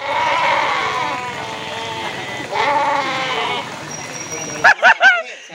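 A large sheep won as a prize at a songbird contest bleats loudly and close by in long, wavering calls over background chatter, ending with a few short sharp bleats.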